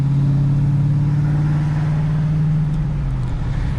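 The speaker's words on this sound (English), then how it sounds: "it might have sounded like I was going hard there, but it was just wheel spin" A manual V8 Holden VN spins its wheels, the engine revving high in a loud, steady roar that dips slightly near the end, heard from inside the car.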